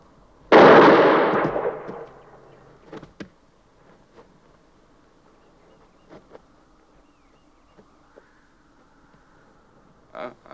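A single loud gunshot cracks in a film scene and fades over about a second, followed by scattered faint clicks and small pops in near silence.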